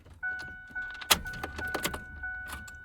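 A Chevrolet Chevelle SS fails to crank: a faint click and a brief whirring attempt over a steady electronic chime, with soft rattling and handling noises nearby and no engine catching.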